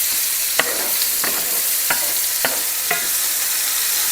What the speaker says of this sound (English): Just breaking up the onions a bit.